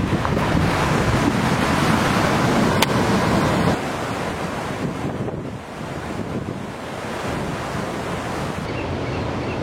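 Ocean surf breaks on the shore at high tide in a steady, loud roar of rushing water, with wind buffeting the microphone throughout and no voices.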